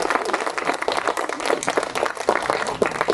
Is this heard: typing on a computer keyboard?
no